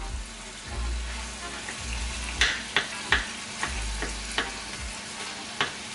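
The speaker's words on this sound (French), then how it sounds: "Vous allez laisser réduire vos oignons, laisser réduire vos petits lardons, mais sans les griller." Onions, lardons and garlic fry gently over low heat in a pan for a Burgundy œufs en meurette, a steady soft sizzle broken by several sharp clicks and taps of stirring utensils against the pan.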